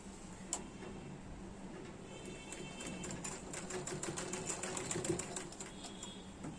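A sewing machine stitches fabric with a fast, even mechanical ticking and clatter, close and steady, the pace picking up slightly toward the end, with no talking.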